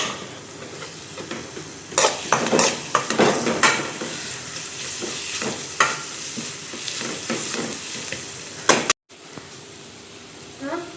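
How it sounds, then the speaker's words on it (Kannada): Onions frying in a pan, with a steady low sizzle under repeated scraping and stirring strokes of a spatula, close by and irregular in rhythm, with a brief dropout near the end. "ಇಲ್ಲಿ ಆನಿಯನ್ ಸಹ ಫ್ರೈ ಆಗ್ತಾ ಬಂತು"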